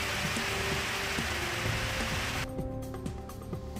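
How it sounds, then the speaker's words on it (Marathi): Heavy monsoon downpour over the towns of Ulhasnagar, Ambernath and Badlapur, a steady dense hiss of rain that fills the whole span, easing slightly partway through, with no voices. "उल्हासनगर अंबरनाथ बदलापूर शहरामध्ये काही वेळेपासून जोरदार पाऊस. मुसळधार पावसामुळे नागरिकांची तारांबळ."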